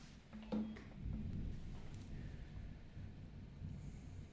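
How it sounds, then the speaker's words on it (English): Distant thunder from a storm rolls low and rumbling, with a brief sharper crack early on, then a long soft grumble beneath faint wind and background hiss. "can still hear thunder from that storm"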